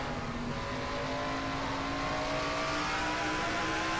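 NASCAR-style race cars in a racing video game, including Thunderbird-bodied stock cars, drone continuously at high revs with a steady whining engine tone rising slightly, loud and unbroken, no voices.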